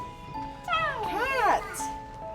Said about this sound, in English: Look at the kitty cat.